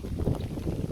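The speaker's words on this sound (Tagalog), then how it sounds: "Humina na ang ulan pero ang hangin naman ang lumakas." Strong wind after rain on a bypass road roars and buffets the microphone in a continuous, rough rush of low noise.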